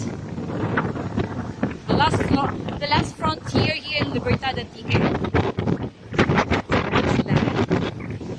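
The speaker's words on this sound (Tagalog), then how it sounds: "Mahangin dito." Strong wind on a high rock at a coastal point buffets the microphone in loud gusty rushes while someone talks over it throughout.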